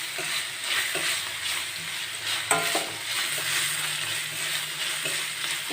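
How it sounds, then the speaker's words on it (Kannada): Onions sizzle in a hot pan with salt as a spoon stirs them, giving a steady frying hiss broken by soft scraping strokes and one sharper knock, close and without voices. "ಈರುಳ್ಳಿ ಸ್ವಲ್ಪ ಸಾಫ್ಟಾಗಿ ಬೇಯಿಸ್ಕೋಬೇಕು"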